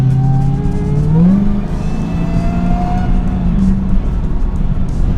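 A Jeep Gladiator with a Demon Hemi engine accelerates, a loud, close, deep engine drone rising and shifting in pitch, with voices talking briefly under it.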